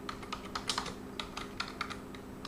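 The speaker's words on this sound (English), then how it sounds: "we'll type in skirting tiles" Keys clatter on a computer keyboard in a quick, uneven burst of close, light clicks over a steady low hum, with no voice.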